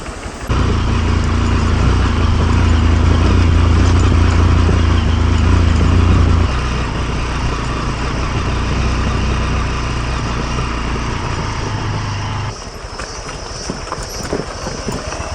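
A Honda CRF150 dirt bike rides off-road over rough, rocky jungle trail in Indonesia, its engine a loud, steady, close drone that shifts in tone partway through and eases slightly near the end.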